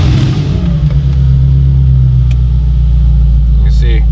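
A V8-swapped BMW E30 running steadily after starting, a loud, deep, even rumble close by with no pauses.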